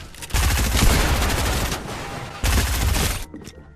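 Loud rapid gunfire in a video game, a long sustained burst, a brief lull, then a second shorter burst that cuts off abruptly, with no voices over it.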